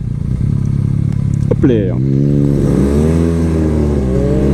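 A BMW R nineT Pure 2022 motorcycle engine runs loud and close, a steady rumble that rises in pitch as it revs up, with a brief spoken exclamation over it.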